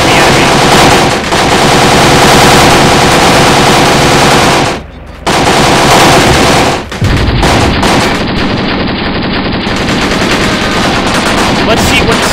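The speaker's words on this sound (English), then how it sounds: "Our men are still firing away, though." Sustained, loud machine-gun fire from the video game Graviteam Tactics, dense bursts overlapping almost continuously, with a brief gap around the middle before the firing resumes.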